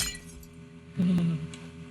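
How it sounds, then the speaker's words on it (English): Glass block breaking in Minecraft, a single short crisp crack over a quiet game background, heard once and close. "I like the sound of glass breaking in this game"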